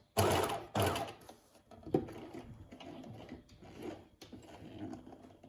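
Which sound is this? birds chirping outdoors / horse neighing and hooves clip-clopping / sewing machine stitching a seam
sewing machine stitching a seam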